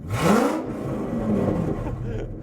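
A Ford Excursion's straight-piped V10 revs up in a loud, rising burst, then settles into a rough, steady idle rumble close by.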